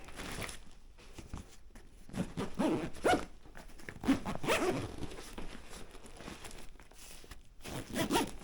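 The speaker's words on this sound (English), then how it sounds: "So I'm going to zip it up." A suitcase packed with clothes being zipped shut, a quiet run of scratchy zipper pulls and rustling with brief pauses, close by and with no talking.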